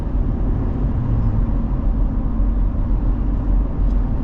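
Wind noise inside the cabin of a 2024 Jeep Gladiator Willys, a steady low rumble and roar with no speech.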